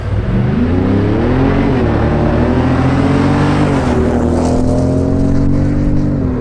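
A 2017 Ford Raptor truck accelerates hard from a standstill to 60 mph, its engine note climbing steadily through the gears as one loud, continuous roar close by, with no talk over it.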